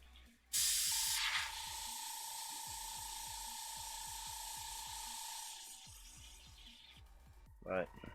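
Airbrush or spray can hissing steadily as dark blue paint is sprayed onto a miniature, a sustained close hiss lasting several seconds before cutting off, with faint ticking underneath.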